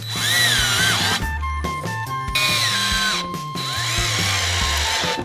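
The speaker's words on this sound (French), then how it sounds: "armez-vous d'un tournevis et de vis. On visse le contreplaqué." A power drill or driver whirs in several short bursts, driving screws into plywood, pausing between each, close by with no talking.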